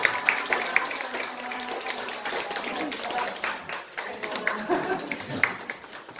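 Scattered clapping from a church congregation welcoming graduates at an Easter stewardship class completion ceremony, moderate and uneven, with voices chattering over it.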